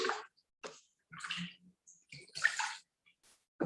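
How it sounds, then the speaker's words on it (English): Water poured from a cup to rinse feet beside a bucket, giving several short splashing and trickling bursts with brief pauses between them, close and fairly quiet. "with our jug of water, our cup of water, just rinsing the feet"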